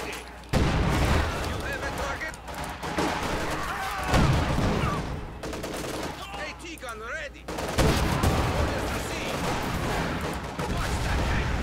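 Company of Heroes 2 battle gunfire, with dense, continuous rifle shots and machine-gun bursts over heavy booming combat noise for the whole stretch, and voices faintly mixed in.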